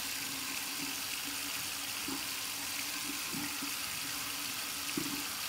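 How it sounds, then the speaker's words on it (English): Cold water runs steadily from a tap into a sink in a bathroom during a shave, a continuous broadband hiss with faint splashing pulses, close and uninterrupted, with no talk. "We're gonna run it under some cold water here and see what we get."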